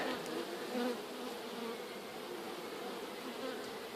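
A honeybee colony hums steadily during a hive inspection, a dense continuous buzz of many bees close by, fairly soft and even throughout, with no talking.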